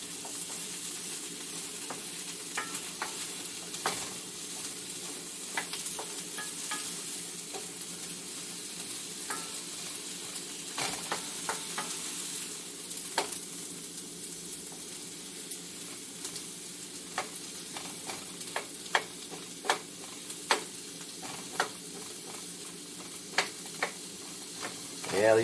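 Onions browning in a pan for a red braised beef stew, a steady sizzle running throughout with scattered scraping clicks from stirring, fairly close and moderate in level.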